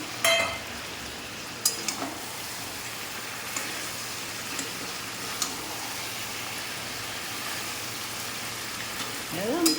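Boiled, fried potatoes with a tomato and a splash of water are stirred in a pan of chicken curry, giving a soft, steady sizzle broken by occasional light utensil clicks.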